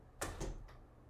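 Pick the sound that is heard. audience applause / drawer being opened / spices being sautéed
drawer being opened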